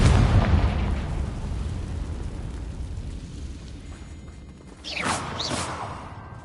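Confringo spell explosion in the video game Hogwarts Legacy, a loud deep boom that rumbles and slowly fades, followed by a brief burst of crackling debris and a higher shimmering tone.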